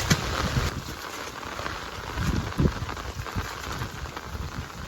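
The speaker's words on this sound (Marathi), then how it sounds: "पाऊस बघा" Rain pours steadily outdoors on a crab-hunting trip, making a dense, even hiss with scattered louder patters and no voices.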